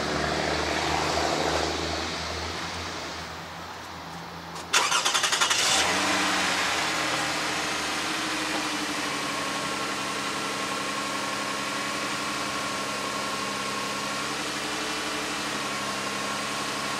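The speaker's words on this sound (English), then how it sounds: "Now I'm gonna start the car real quick" A 2005 Lexus ES330 engine cranks briefly and catches, then settles into a steady, even idle that runs on alone at close range in a repair setting.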